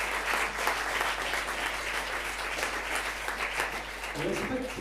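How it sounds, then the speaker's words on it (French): Modest, fairly faint applause from a small audience at a lecture, steady light clapping for a few seconds with a hint of a voice near the end. "C'est pas terrible finalement comme applaudissement."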